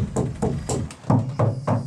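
Knocking on Ford Transit van panels lined with butyl tape sound deadening, seven quick, dull, damped thuds in a steady rhythm, close and clear.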